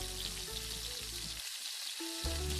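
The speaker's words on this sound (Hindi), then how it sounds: "हमें धीरे धीरे इसे फ्राई करना है, बहुत ही लो फ्लेम पर, मीडियम टू लो फ्लेम पर।" Sweet dumplings (gujiya) fry slowly in hot oil over a medium-to-low flame, giving a constant close sizzle and bubbling throughout, with no voices.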